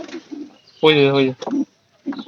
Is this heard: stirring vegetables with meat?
no